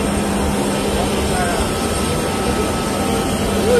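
A private jet's engines give a loud, steady, broadband roar with a faint whine running through it, constant from start to finish, and voices can be heard under the drone.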